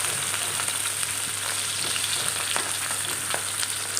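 Oil heats and sizzles in a pan while katla fish curry is being cooked, a steady, close frying crackle with small pops and no talking.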